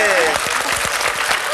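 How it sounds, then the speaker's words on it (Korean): Full, steady applause rises from the studio audience of a KBS television talk show, close and loud, while people speak over it. "여러분 박수 한번 쳐줄까요?"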